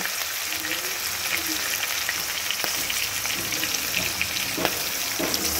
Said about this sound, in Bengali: এবারে খুব ভালো করে একটু ভেজে নেব।